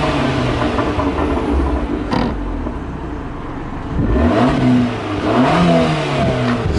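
A stock exhaust on an Abarth 595 revs hard twice, each blip rising and falling in pitch with a raspy, loud, close burble between, with no talk over it.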